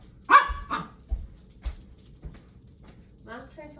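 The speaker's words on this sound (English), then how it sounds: "We have 2 Pomeranians and a mini Australian Shepherd" Two Pomeranians and a mini Australian Shepherd let out several sharp, high barks and yips close by, spaced irregularly and separated by quiet gaps.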